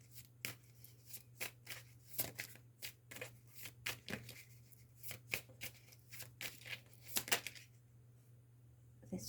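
Cards are shuffled in repeated quick riffles and snaps, close and crisp, with short pauses between bursts and no talking.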